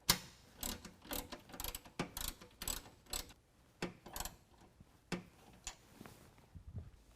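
Ratchet wrench tightening a 13mm bolt on a Ram 2500 power step: quick bursts of metallic clicking strokes repeated in an uneven rhythm, close and fairly quiet.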